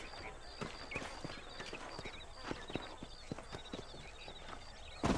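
Horse hooves clip-clop in the Red Dead Redemption video game, a regular walking beat of sharp knocks over quiet outdoor game ambience, with a brief louder burst at the very end.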